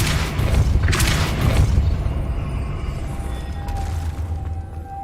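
A Depulso spell is cast in Hogwarts Legacy, releasing a loud, booming force blast that rolls into a low rumble, with a thin sustained tone lingering near the end.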